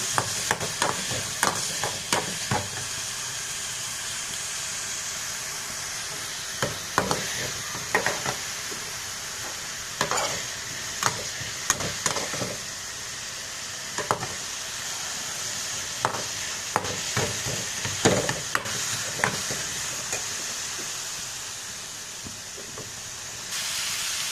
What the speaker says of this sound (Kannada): ಈಗ ಸ್ವಲ್ಪ ಕರಿಬೇವು ನಂತರ ಕೊತ್ತಂಬರಿ ಸೊಪ್ಪು ಸ್ವಲ್ಪ ಹಾಕಿ ಎಲ್ಲ ಮಿಕ್ಸ್ ಮಾಡೋಣ